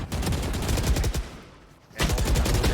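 Rapid gunfire bursts from a Valorant tournament match, loud and dense, then a brief lull before the shooting resumes sharply.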